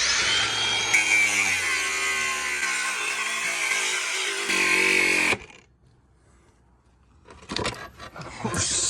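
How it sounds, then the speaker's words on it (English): An angle grinder cuts off a part for a short shifter install, giving a loud, continuous high-pitched whine for about five seconds before stopping, followed by a quiet gap and brief clattering handling noises. "We're just gonna be using our angle grinder to cut that off of there."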